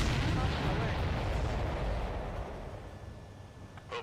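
Explosions rumble in the video game Ace Combat 7, a loud, broad booming roar that starts at full strength and slowly fades over several seconds, with a brief burst near the end.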